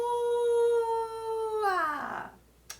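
Person imitating a wolf howl, one sustained tonal howl held steady, then sliding down and breaking into a breathy fade, close and clear, with a short click at the end.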